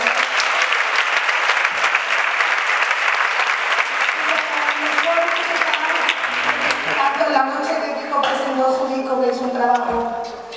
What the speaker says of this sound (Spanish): Fuerte la aplauso.